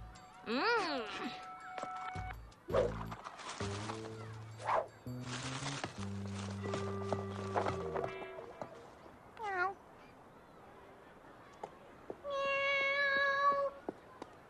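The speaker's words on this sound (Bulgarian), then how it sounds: "Едно сладко коте се е качило горе и не може да слезе." A cartoon kitten mews repeatedly in high, sliding cries, mixed with cartoon voices and sound effects, close and clear, stuck up high and unable to climb down.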